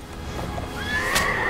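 A horse in the Assassin's Creed video game lets out a loud, close whinny that rises in pitch near the end, over a low background rumble.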